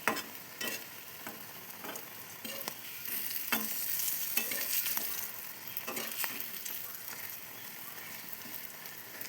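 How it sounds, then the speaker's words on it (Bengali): Cabbage cutlets coated in semolina and flour fry in hot oil with a steady crackling sizzle, broken by repeated sharp scrapes and taps from stirring and turning, close and moderately loud. "দেখো লাস্টে সুজি আর ময়দার মধ্যে রেখে তারপরে ভেজে নিচ্ছি"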